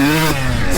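A 2002 Honda CR125 two-stroke dirt bike engine revs briefly, loud and close, its buzzing note holding steady before dipping and rising again.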